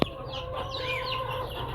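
Two hens and nine chicks cluck and cheep close by in a steady stream of soft calls, with high chick peeps layered over lower hen clucks throughout.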